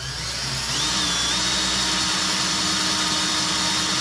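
A small wind turbine generator is spun up by a drill-like power tool at low speed, about 210 RPM, giving a loud, steady whirring hum with a tonal shift after two seconds and no talk.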